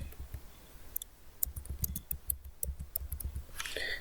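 Someone types a short phrase on a computer keyboard, a quick run of light, close clicks with brief pauses between keystrokes.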